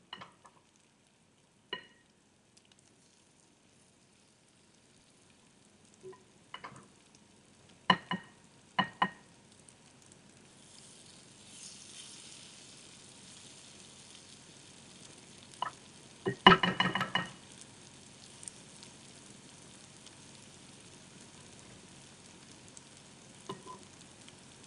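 Okonomiyaki pancake topped with sliced bacon cooks on a griddle, a faint low sizzle broken by a few sharp clicks and a louder burst of spatula scraping, with no talk.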